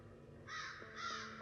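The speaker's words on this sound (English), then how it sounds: "tall trees with loud crows" Loud crows caw from tall trees in two harsh, drawn-out calls, one after the other, over a low steady background hum.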